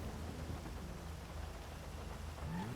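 Steady rain falls in GTA Online as a dense, even hiss, with a low rumble underneath that suggests distant thunder, continuous and moderately loud with no speech.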